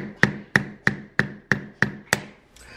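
Seven evenly spaced sharp taps from a small tool on the nut of a Rickenbacker bass guitar, each a crisp, close knock with a short ringing tail, followed by a faint rustle.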